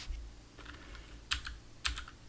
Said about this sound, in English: My microphone is right beside the keyboard, and it's a real clacky keyboard.